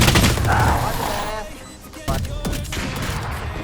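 Rapid bursts of gunfire in a Valorant match, loud and close, with a sharp burst of shots partway through and the fire continuing to the end.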